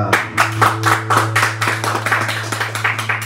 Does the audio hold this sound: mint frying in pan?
no